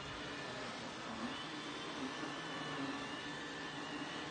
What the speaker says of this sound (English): trying to vacuum the floor